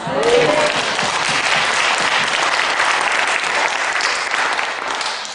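A congregation breaks into dense, sustained applause during a sermon at a church assembly, loud and even throughout before easing slightly at the end.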